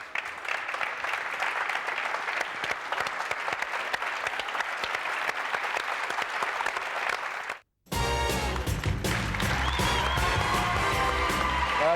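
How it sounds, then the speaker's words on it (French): Sustained studio audience applause during a French radio-television show at the Maison de la Radio. The dense clapping runs loud for several seconds, cuts off briefly, then returns with a cheering crowd. "Applaudissements."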